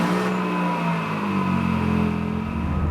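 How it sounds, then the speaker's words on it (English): A right-hand-drive JDM Toyota Corolla FX-GT with a 4AGE engine pulls away, its engine revving loud and close with a steady rising drone and no talking. "Let's just take the car for a quick drive so you can see what it's like."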